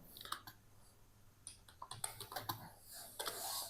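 Fingers tapping out a text prompt on a computer keyboard in uneven bursts of clicky keystrokes, close and fairly quiet, with a faster flurry of typing near the end.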